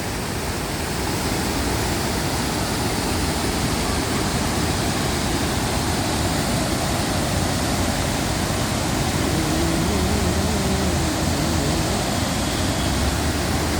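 Charppa waterfall rushing, a dense, constant roar of falling water that stays loud and even throughout with no other sounds.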